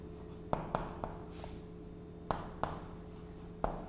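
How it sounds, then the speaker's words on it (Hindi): A pen or marker taps and scratches sharply on a board while a math equation is written, with a handful of separate strokes spaced out over quiet room tone and no speech. "हम लिखते हैं"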